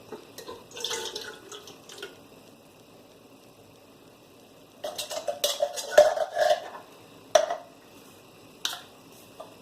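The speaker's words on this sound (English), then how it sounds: "There goes the peaches, and goes the butter, and goes our Splenda that we're using instead of sugar" Peaches, butter and Splenda drop into a metal pot for peach cobbler, producing clustered clanks, taps and wet plops in two bursts separated by a quiet gap, all close by.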